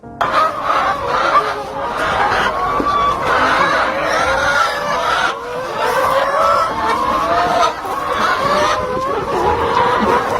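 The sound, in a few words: layer chickens clucking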